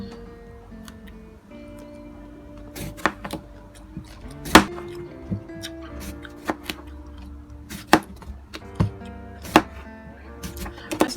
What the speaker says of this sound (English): Everything here is washed, so I'm going to slice it this way.